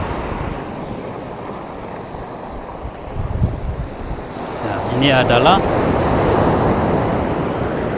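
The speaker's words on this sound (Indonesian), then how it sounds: "suasana lautan ganas seperti ini bagi masyarakat maritim Kepulauan Timur Indonesia itu adalah" Rough, heavy sea waves surge along the south coast of Taliabu Island in eastern Indonesia, a steady broadband roar with wind buffeting the microphone, swelling louder partway through while someone briefly speaks over it.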